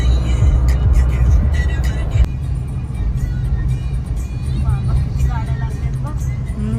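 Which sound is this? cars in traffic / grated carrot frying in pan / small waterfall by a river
cars in traffic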